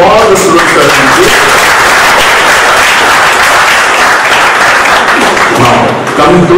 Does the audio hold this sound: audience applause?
yes